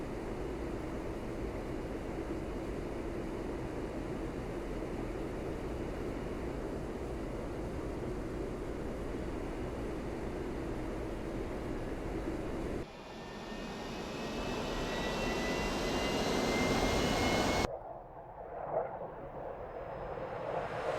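Jet engine of an A-4E Skyhooks in a flight simulator spooling up during an in-flight restart, a steady loud roar with rising whine that shifts character partway through, no talk.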